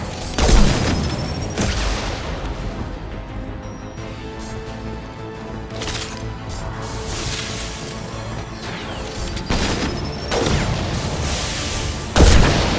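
Gunfire in the video game Mass Effect 2, loud continuous shooting with heavy crashing impacts and booms over a dense battle din, sharp bursts near the start and end.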